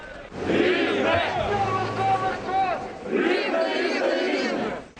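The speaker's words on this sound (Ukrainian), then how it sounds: "Під час маршу фанати вигукували патріотичні гасла та футбольні кричалки." Football fans chant patriotic slogans and football songs during a street march in Rivne, a crowd of voices shouting together in loud, sustained waves that pause briefly before surging again.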